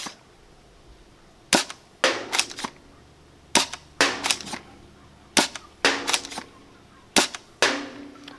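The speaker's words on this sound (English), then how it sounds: "Let's try the super light for a couple of shots." A foam dart blaster fires super light darts, sharp cracking shots in quick bursts of two or three, with quiet pauses between volleys.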